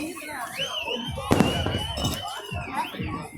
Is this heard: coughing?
no